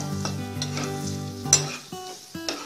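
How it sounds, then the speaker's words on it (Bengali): Gentle sizzling of cashews and raisins frying in a pan over low heat, with a few scraping stirs of a spoon, quiet and close, with no talking. "কাজু বাদাম আর কিশমিশ ভাজার সময়"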